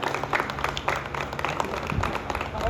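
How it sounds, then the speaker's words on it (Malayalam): Wedding guests applaud in a brief, dense burst of clapping from a small group nearby that runs evenly from start to finish. "നല്ല ക്ലാപ്പ് വരട്ടോ"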